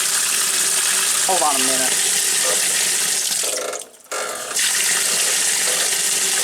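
A 1996 Maytag Dependable Care Plus washing machine filling with water, a steady loud gushing rush that briefly dips and cuts out before resuming, with a short spoken remark early on.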